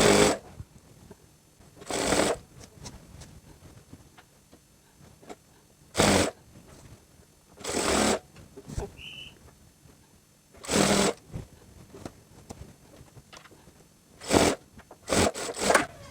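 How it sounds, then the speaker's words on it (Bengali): A sewing machine stitches elastic into the waistband of a palazzo garment in short, loud bursts of rapid whirring chatter, separated by quiet pauses, with about eight runs of varying length. "এখন রাবার সহ মাঝখানে সেলাই দিতে হবে"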